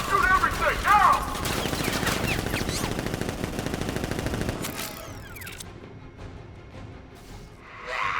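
Guards in Batman Arkham Knight open up with rapid automatic gunfire, a dense sustained burst of shots that cuts off partway, leaving scattered quieter sounds and brief voices afterward.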